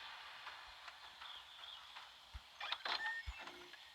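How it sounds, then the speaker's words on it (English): A loot container creaks open in The Walking Dead: No Man's Land, a quiet mechanical scrape and creak like an old door, with a couple of soft thuds and a brief rattling burst near the end. "I love the sound that that comes when you open these. Sounds like a creaky door opening."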